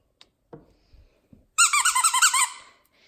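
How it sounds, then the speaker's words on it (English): A squeaky dog toy squeezed in a fast run of about nine loud, bright squeaks lasting roughly a second, after a few soft knocks and handling sounds, with a husky and a golden lab nearby. "And it squeaks too."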